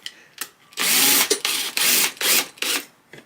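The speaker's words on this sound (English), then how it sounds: "I'm going to go and use the drill to" A power drill turns a dulcimer tuning pin counterclockwise in several loud, close bursts of whirring, separated by short pauses and brief clicks.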